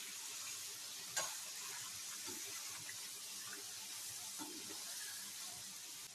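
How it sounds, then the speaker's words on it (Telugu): Kajjikayalu, sweet Diwali dumplings, fry in hot oil over a medium flame with a steady, continuous hiss and fine crackle. A faint clink sounds near the start and no one speaks. "ఆయిల్ కాగిపోయింది. ఇప్పుడు ఇందులో గజ్జికాయలు వేసేసుకుందాం."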